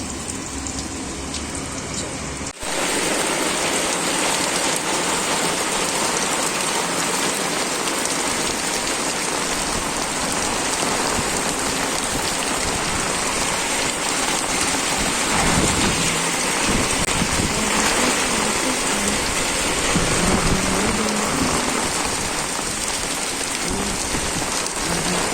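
Steady rain falls on a cloudy morning as a dense, loud, continuous hiss that swells in after a quieter opening moment and stays unbroken throughout.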